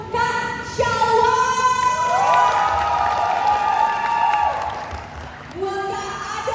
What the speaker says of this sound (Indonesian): Tepuk tangan buat Kak Shalwa.